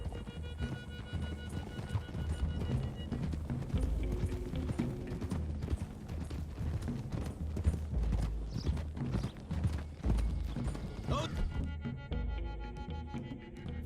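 Horses gallop along a road in Red Dead Redemption 2, their hooves a steady, rapid clip-clop drumming close by for the whole stretch, with faint wind and other game sounds beneath.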